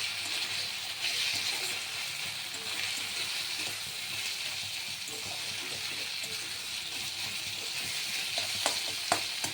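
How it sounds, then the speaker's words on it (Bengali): A paste of ginger, green chili and garlic fries with onions in a pan for a pointed gourd and prawn dish, giving a steady, close hiss of sizzling oil with a few small clinks near the end. "এবার আমি এর মধ্যে দেব আদা আর কাঁচা লঙ্কা, আদা কাঁচা লঙ্কা আর রসুন একসাথে বাটা।"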